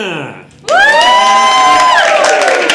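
A lively crowd at a live poetry open mic bursts into loud cheering and whooping for a performer, sustained shouts and voices filling the room after a brief quieter moment.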